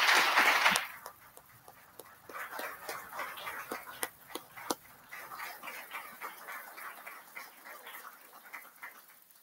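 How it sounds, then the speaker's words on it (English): Sparse, fading applause from a conference audience at a kick-off event, beginning with a loud burst that quickly thins to scattered, distant claps. "A big round of applause for them."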